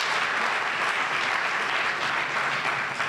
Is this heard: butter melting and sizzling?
no